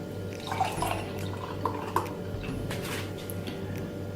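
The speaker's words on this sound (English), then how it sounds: "So you just pour normally, and you will see that the head goes on top of the guard and the juice comes underneath." Juice from a Breville BJE430SIL juicer jug pours steadily into a glass, a continuous trickling liquid stream with soft drips, close and moderately quiet.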